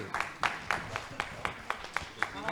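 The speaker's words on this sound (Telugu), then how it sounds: "పూర్తిగా చప్పట్లు కట్టి కొట్టండి మరి" An audience at a Telugu shatavadhanam literary performance claps in a steady run of sharp, evenly spaced claps, moderately loud, with a voice speaking underneath.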